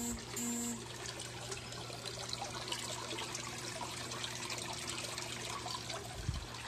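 A bell siphon in a month-old home aquaponics system drains its grow bed, giving a steady, fairly faint trickle and gurgle of flowing water under a constant low hum.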